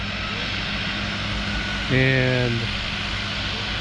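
A skydiving aircraft returns overhead at Perris Valley, its engine a steady, fairly loud drone. A person speaks briefly over it, with a short tonal burst rising partway through.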